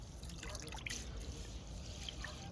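Water drips and trickles steadily as parboiled rice is swished and rinsed in a bowl, close by, with no talking.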